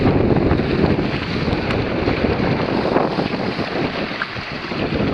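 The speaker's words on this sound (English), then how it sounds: "fighting the wind" Strong wind gusts buffet the microphone aboard a Hobie Mirage Adventure Island sailing kayak, a loud continuous rushing roar with faint water wash beneath.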